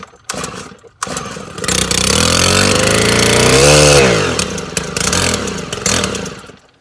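A small two-stroke string trimmer engine, being troubleshot for not starting, catches after a few pull attempts and runs loud and close, revving up and down with a buzzy, rising-and-falling whine.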